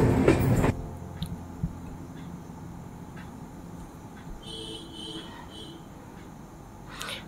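Inside a moving passenger train bound for NJP (New Jalpaiguri), a steady rattling rumble from the carriage on the tracks. It opens with a loud jolt, then settles into a continuous, even clatter with occasional faint high squeals.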